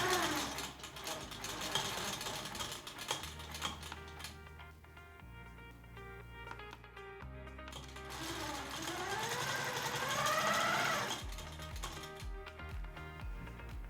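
A QMP 16 sewing machine stitches quilt binding at a quarter-inch seam, its needle running in bursts of rapid mechanical chatter that pause and restart.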